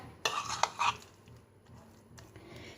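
A spoon stirs kadhi pakora batter in a bowl, a few quick scraping and clinking strokes near the start, then quieter faint scrapes, with no talking.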